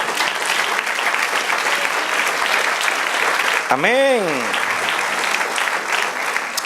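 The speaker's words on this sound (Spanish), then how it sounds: "Del otro aplauso al Señor." Steady applause from a church congregation fills the whole stretch, loud and dense, as a voice speaks briefly over it and another voice sings or calls out a rising and falling tone partway through.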